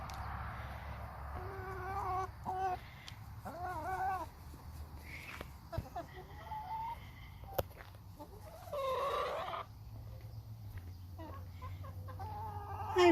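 A backyard hen clucks and squawks in short, excited bursts after snatching a tomato hornworm, with small bird calls scattered around in a quiet outdoor setting and no talking.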